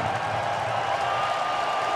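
Steady crowd roar from Bison fans at an NDSU versus SDSU FCS playoff football game, a broad continuous wash of cheering and scattered clapping that holds level throughout with no pauses.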